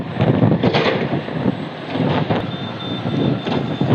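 Strong gusting wind with a dust storm buffets the microphone in a roaring, rumbling wash at a loading site in Saudi Arabia, loud and continuous with surging gusts.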